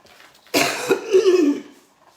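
A single loud, raspy cough close up, trailing into a brief throaty rattle before silence.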